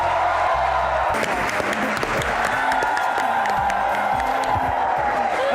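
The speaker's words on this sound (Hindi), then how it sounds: "आपकी भरपूर तालियों में" Studio audience on a talk show bursts into loud, continuous applause with cheering and whoops for an arriving guest, sustained and full throughout.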